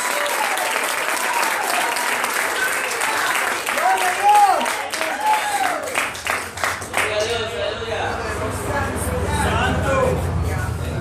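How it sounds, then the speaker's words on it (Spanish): Church congregation breaking into loud, sustained applause during a Spanish-language service, clapping continuously for several seconds while voices shout and a preacher speaks over the crowd. "give a round of applause to Jesus"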